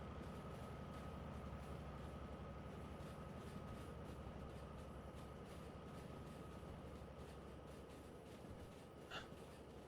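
Train running in the Derail Valley video game, a steady rumbling roll with a faint sustained tone, continuous and quiet, with a brief clank near the end.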